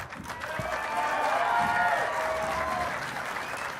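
Crowd at a girls' state basketball finals applauding the two finalists, a broad wash of clapping that swells and then eases off, heard alongside the echo of the public address in the gym.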